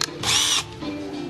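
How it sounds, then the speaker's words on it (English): A power drill drives a 7/8-inch hole saw into a coffee can for a lamp build, giving a short, loud, high whine that spins up, holds for about half a second, then winds down into a lower hum. "7/8 hole saw."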